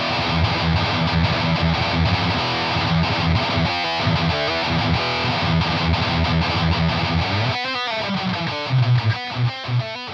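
Heavily saturated electric guitar driven through two Boss Metal Zone distortion pedals stacked together, a thick, buzzing wall of fast riffing that ends in a few separate, punchy sustained chords, loud and close with no talking.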